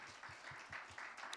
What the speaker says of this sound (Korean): 우리 같이 격려의 박수 한번 부탁드립니다